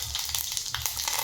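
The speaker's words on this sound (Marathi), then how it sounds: "चटणीला फोडणी देण्यासाठी तेल गरम झालं, त्यामध्ये जिरे मोहरी टाकते" Cumin and mustard seeds hit hot oil for tempering a chutney, giving a soft crackling sizzle with small pops, close up and fairly quiet.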